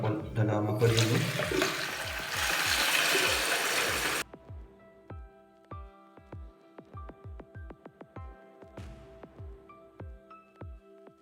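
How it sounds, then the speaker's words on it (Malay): Tap water gushes loudly into a home aquarium for Molly fish, a dense close rush that stops abruptly and is followed by a series of sharp rhythmic clicks and drips. "seterusnya saya akan masukkan air ke dalam akuarium ni"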